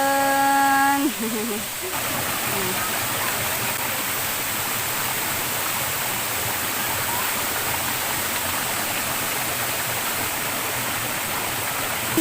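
Steady rushing water of Little Tabion Falls (Tabion Munti) pours loud and continuous, filling the scene with broadband roar; a brief voice-like tone at the very start before the falls dominate alone.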